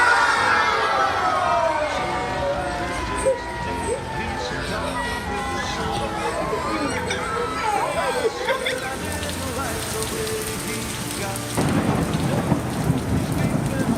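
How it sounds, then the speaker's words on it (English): Steady rain falls with a broad hiss, a rumble of thunder and faint voices mixed in, continuous throughout. "Looks like it's raining outside."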